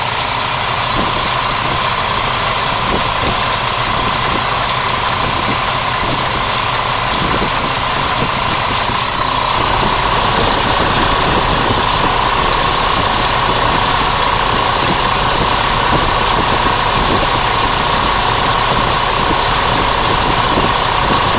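A vehicle engine fitted with an onboard York 210 air conditioning compressor idles at about 700 to 800 rpm, a loud, steady, close mechanical drone with a light knocking pulse that rises slightly midway, no talk.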